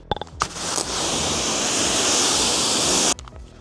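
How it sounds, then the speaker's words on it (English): A steady, loud rush of spraying water runs for a few seconds, with brief splashes and clatter just before and after. "So I decided to give it a good rinse, a good car wash."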